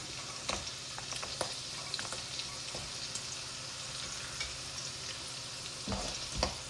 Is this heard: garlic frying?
yes